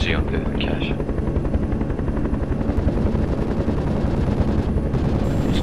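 Kiowa helicopter in the game Project Reality, its steady rotor thrum loud and continuous, with rapid machine-gun bursts rattling on top throughout and brief radio chatter early on.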